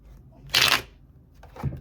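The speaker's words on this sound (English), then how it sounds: "let me shuffle this right" Tarot cards are shuffled in one quick close riffle lasting about a quarter second, followed by a softer shuffle of the deck a second later, with no speech.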